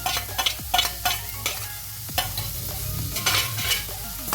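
Chopped onion, chilli and garlic sizzle and fry in butter in a pan, with a spoon stirring through them in repeated scraping strokes, close and steady, without any talk.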